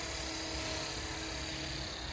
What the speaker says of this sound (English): But look how nice this helicopter looks. Let's get it in the air here,